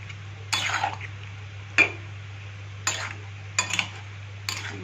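A spoon clinks and scrapes against a pot while mutton curry is stirred, giving a handful of separate metallic knocks and short scrapes over a steady low hum, close and fairly faint, with no talking.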